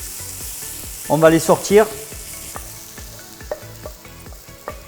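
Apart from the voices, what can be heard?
onions and mushrooms sizzling while frying in pan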